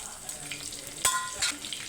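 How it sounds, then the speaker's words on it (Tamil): Fennel seeds, bay leaf, cinnamon and cloves hit hot coconut oil and sizzle with a soft, quiet hiss, marked by a couple of brief crackling pops. "இப்போ பாதி தேங்காய் எண்ணெய் ஹீட் ஆனவுடனே சோம்பு சேர்த்துக்கோங்க இப்போ வந்து பிரிஞ்சி இலை பட்டை லவங்கம் மட்டும் சேர்த்துக்கலாம்"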